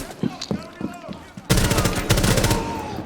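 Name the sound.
gunshots in Rainbow Six Siege video game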